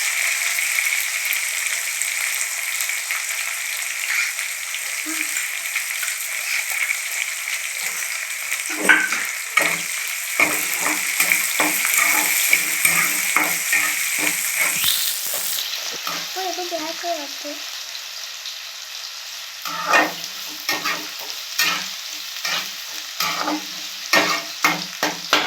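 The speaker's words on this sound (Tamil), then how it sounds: "இப்போ வெங்காயம் போட்டுக்கலாம்" Onions sizzle in oil in a pan, a continuous bright hiss joined by repeated close scraping strokes as they are stirred, growing busier in the second half.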